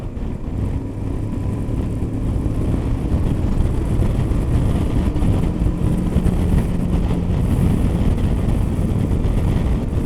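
A Voge DS 525 XT motorcycle engine drones steadily and loudly throughout, with wind rumble and no clear rise in pitch.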